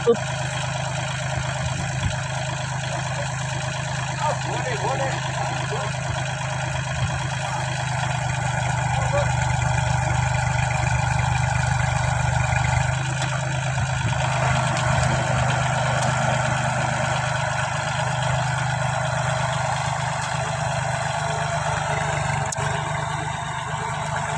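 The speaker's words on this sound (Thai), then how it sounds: "รถไถยกมันครับผม" Tractor engine running steadily while lifting harvested cassava in a field in Chiang Rai, Thailand, a continuous low rumbling drone at close range with slight swells in loudness and no break.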